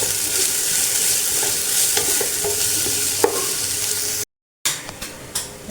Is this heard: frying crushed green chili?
yes